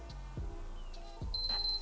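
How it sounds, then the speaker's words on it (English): Faint, short electronic beeps from a faulty PS3 console, three quick tones in a row against quiet background hum. "So as you guys see, we got the 3 beeps"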